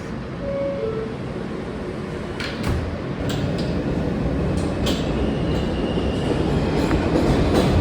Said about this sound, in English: First time moving on the Z train.